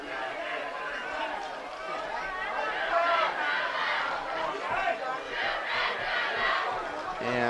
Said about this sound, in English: the Spartan cheer block is getting fired up